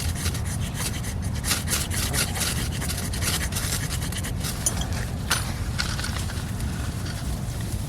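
Magnesium shavings scraped from a fire-starting block in urban woods, a steady close rasping rub repeating continuously with a few sharper scratches.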